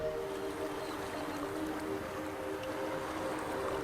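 Motor boat traffic off the coast of Sardinia, a steady droning engine hum with tonal whine that holds constant and unbroken throughout, moderately distant with no voices.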